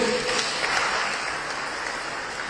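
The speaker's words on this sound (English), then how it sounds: "But round of applause anyway." A Sunday service congregation applauds a birthday announcement, brief dense clapping that is fairly loud at first and gradually fades.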